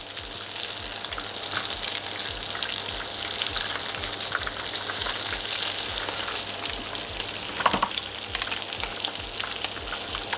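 Greek zucchini fritters (kolokithokeftedes) frying in oil in a pan: steady, close crackling sizzle that runs throughout, with a brief clink or flip near the end.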